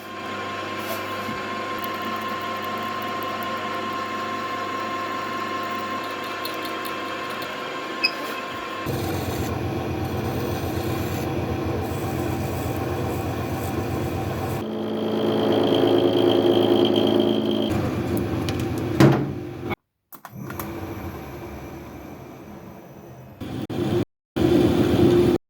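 A lathe machines a motorcycle banjo bolt for a race engine, a steady mechanical whine and hum that shifts in pitch and texture across several passes, close, ending with abrupt stops and restarts.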